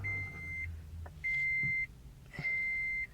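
Start-up beep of a 2010 Toyota Prius: three clean, steady electronic tones, each about half a second long and evenly spaced, heard inside the car over a quiet background hum.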